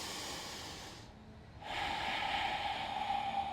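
Ujjayi pranayama yoga breathing, heard up close: a long, throaty hissing breath, a brief pause, then a stronger rasping breath.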